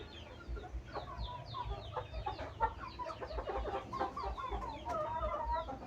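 Young Burmese game chickens, four to five months old, on a farm, clucking and chirping in a busy overlapping flock, close and continuous over a low background rumble.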